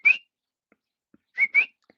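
A person whistles an imitation of the coqui call, one sharp short whistle followed by a quick pair of rising whistles, close and clear against silence.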